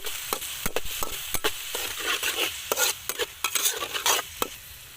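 Chicken being mixed with seasoning and fish sauce in a village kitchen: close, irregular scraping and clinking of a utensil against the bowl, with quick sharp taps throughout.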